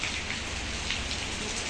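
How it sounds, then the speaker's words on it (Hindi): Heavy rain pours down steadily, a dense, continuous hiss of drops hitting surfaces up close, with no voices over it. "तेज बारिश लग गई है।"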